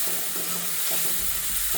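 Green vegetables stir-fry in hot oil for chow mein, giving a steady, fairly loud hiss of sizzling with faint stirring movements underneath, with no pauses.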